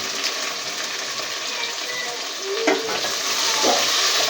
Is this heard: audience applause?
no